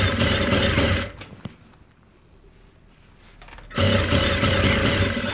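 Sewing machine stitching a winter suit: a steady, loud mechanical whirr that runs, stops for a quieter gap of about three seconds, then starts up again at full loudness.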